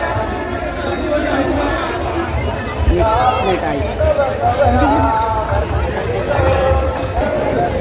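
Dense crowd chatter fills a night-time Ram Navami fair at the Ram temple in Satpati, a steady babble of many voices with brief louder bursts nearby.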